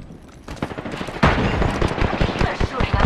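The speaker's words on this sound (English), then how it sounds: "They're shooting at you" Rapid bursts of game gunfire crackle close and loud, with repeated sharp shots that intensify midway into a dense volley in a Loba-led squad firefight.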